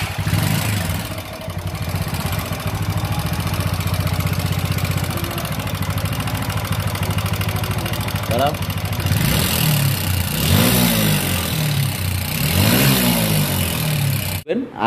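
A TVS Apache RTR 4V motorcycle with a harsh, rattly engine fault idles roughly, then is revved repeatedly in rising and falling bursts, loud and close, with people talking over it.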